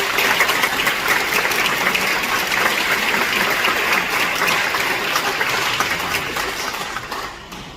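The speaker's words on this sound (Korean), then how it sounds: "우리 박수로 맞이하겠습니다." A church congregation applauds to welcome the pastor, a dense, loud, sustained round of clapping from many hands that carries evenly throughout and tapers off at the very end.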